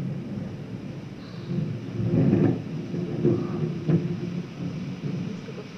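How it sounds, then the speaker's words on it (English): Low, rolling thunder rumbles through a room, a faint but sustained grumble with a couple of swelling peaks, heard without talk. "was that thunder?"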